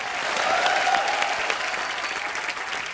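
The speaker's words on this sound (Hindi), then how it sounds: "एक बार जोरदार तालियां" Steady, loud applause from a TV comedy show's studio audience fills the whole stretch, dense clapping with a crowd murmur underneath.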